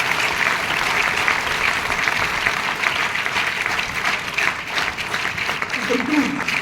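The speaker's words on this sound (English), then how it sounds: "Can I have a round of applause for them?" An audience gives a sustained round of applause for a tribute to army sappers, with steady, dense clapping and faint talk near the end.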